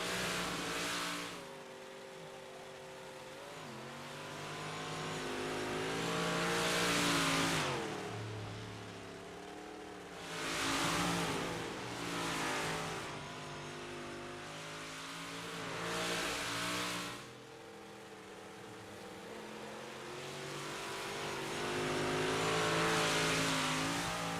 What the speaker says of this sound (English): Rocket Bennett right around the infield tractor tires.